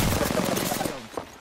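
Rapid automatic gunfire in Apex Legends, a dense burst of closely spaced loud shots that cuts off after about a second, followed by a brief click and a voice.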